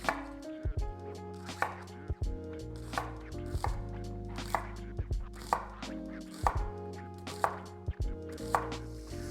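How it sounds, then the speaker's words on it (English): A knife chops onions thin on a cutting board for burgers, landing in a steady run of close, sharp thwacks about every second or less, with a low steady hum underneath. "we'll go ahead and slice up some onions. I like to cut them a little thin"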